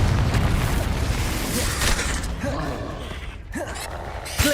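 A Confringo spell blast in the Hogwarts Legacy video game: a heavy, rumbling explosive burst with crackling debris and mechanical creaks, loud and close, followed by a sharp thump near the end.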